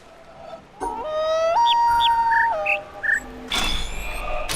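Short, distant birdsong of chirping whistled notes in the puzzle game The Witness, several tonal tweets rising and stepping in pitch, heard alone before a brief burst of rustling.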